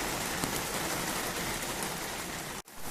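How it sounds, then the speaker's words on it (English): Heavy lashing rain pours down in a dense, steady hiss across the whole clip, loud and close, with a brief dip near the end before the downpour resumes. "It's just lashing rain."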